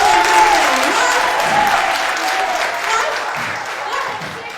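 Round of applause from an audience at a girls' event on gender-based violence, a loud dense wash of clapping that slowly fades, with a faint voice underneath.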